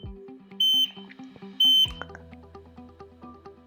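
Two loud high electronic beeps from a GX-3R portable gas detector as it powers off, each about a quarter second long and close up, followed by quieter low clicks and hum.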